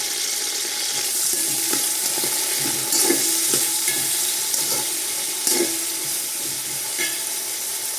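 Sliced onions and green chillies frying in oil for mutton biryani, a steady broadband sizzle with occasional stirring clinks and scrapes, close and continuous without talk.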